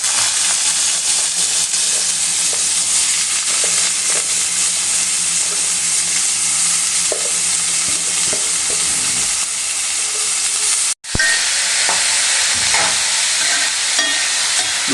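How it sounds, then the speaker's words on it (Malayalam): Sliced onions sizzle in hot oil in a pan, a loud, continuous crackling hiss with occasional stirring scrapes, broken once by a brief cut before the frying resumes. "അപ്പോഴേ നമുക്ക് എടുത്തു വെച്ചേക്കുന്ന സവാള ഇട്ട് കൊടുക്കാം"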